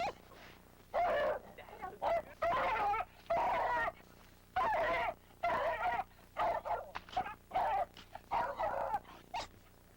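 A dog barks in repeated bursts, loud and close, each bark spaced by brief pauses across the stretch, with a honking, goose-like edge to the calls.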